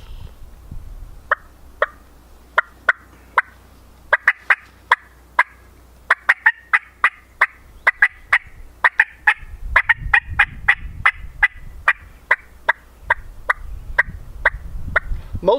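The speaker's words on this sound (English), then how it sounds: "It's just a hen that's excited." An excited turkey hen clucks in a long run of sharp, separate clucks, spaced apart at first, then quickening into a rapid, fairly loud series, with low rustling underneath.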